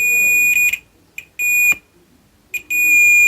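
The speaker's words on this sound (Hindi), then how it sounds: "ये कंपोनेंट बीप कर रहा है माइनस के साथ" A multimeter on continuity test beeps while probing a component on a mobile phone charging circuit, giving several short, loud electronic beeps separated by pauses.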